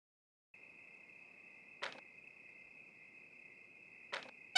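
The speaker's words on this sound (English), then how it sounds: "Shut up, you crickets!" Night crickets in the video game One Epic Knight give a steady, high continuous chirping drone, moderately quiet, broken by two short sharp clicks and a sudden loud burst at the end.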